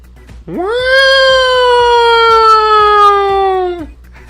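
A single voice imitates a siren, sliding up sharply and then holding a long, steady wailing tone for about three seconds before cutting off.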